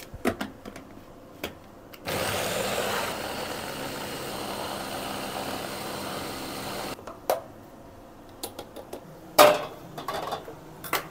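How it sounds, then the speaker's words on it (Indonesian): A motorized blender whirs loudly for about five seconds, grinding shallots steadily, with scattered clinks and taps of kitchenware before and after. "bawang merah kita blender aja ya semua biar cepat mari kita giling"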